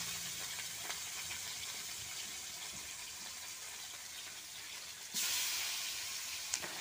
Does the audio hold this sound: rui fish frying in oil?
yes